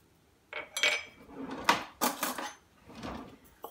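Bran, oats, sesame and flax seeds mixed in a bowl, a series of close, irregular scraping and clinking strokes of utensil against bowl, about five bursts over a few seconds with no talk.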